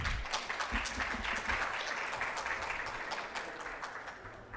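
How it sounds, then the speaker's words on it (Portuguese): Audience applause breaks out to welcome a speaker at a river basin committee event on the lower São Francisco, a steady, fairly loud wash of many hands clapping that holds evenly throughout. "Recebam com uma calorosa salva de palmas"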